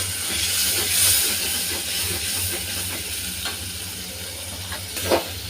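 Ground mustard, poppy seed and green chili paste sizzling in a hot pan, a steady soft hiss with faint crackles and a low hum underneath throughout.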